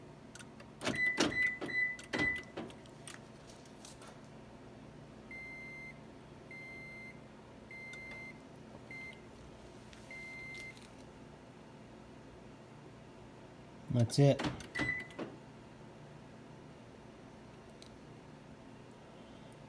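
A 2010 Toyota Prius is started with a Fortin EVO remote starter: faint electronic beeps and clicks sound, followed by a series of short repeated tones, with a brief spoken phrase near the end in a quiet setting.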